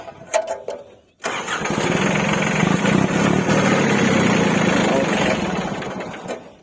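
A Kubota L2202DT tractor's three-cylinder diesel engine cranks and catches, then settles into a loud, steady rumbling idle close by, with a brief click just before it fires.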